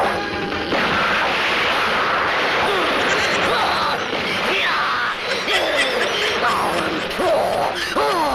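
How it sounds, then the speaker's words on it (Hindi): Dense, continuous crashing blasts and gunfire-like bangs fill a Mithun Chakraborty action-comedy fight scene, loud and sustained throughout with no clear gaps, with faint voices and laughter mixed underneath. "कोई ये तो बताओ ये बम धमाके हो कहाँ से रहे हैं?"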